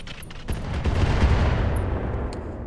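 Mortar rounds fire and impact in the mech combat game Roguetech, a quick cluster of sharp cracks and thuds merging into a loud, rumbling barrage with no voices.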